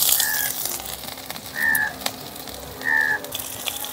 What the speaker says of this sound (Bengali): জিরেটা একটু ভাজা ভাজা হয়ে গেল